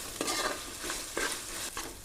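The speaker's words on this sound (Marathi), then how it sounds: "कांदा गोल्डन कलरचा होईपर्यंत त्याला मिक्स करून घ्यायचा" Onions with ginger-garlic paste, mixed with chili and coriander, are stirred in a hot pan: three quick scraping strokes over a continuous close sizzle, no voices.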